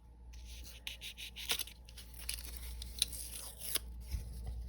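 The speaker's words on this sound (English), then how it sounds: "we want to take our foam board, preferably something from Dollar Tree that is going to cut easily, and we want to go ahead and make a cut" A blade slices through a Dollar Tree foam board with scratchy, tearing strokes, close and steady, broken by a few sharper snaps of the backing.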